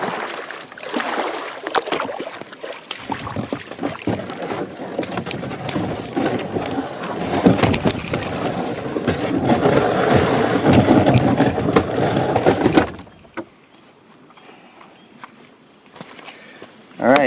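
A solo canoe is paddled on a large lake in Algonquin in September, with steady close water swishes and splashes from the paddle strokes that run continuously for most of the stretch, then drop away to quiet.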